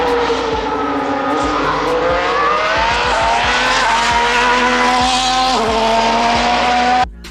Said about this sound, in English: see the cars go past